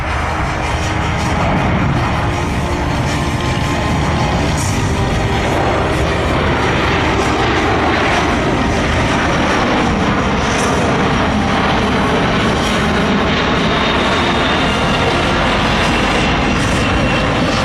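Engines of a Boeing C-17 military transport aircraft roar steadily at an airport airshow, a loud continuous broadband rumble that holds throughout without breaks or talking.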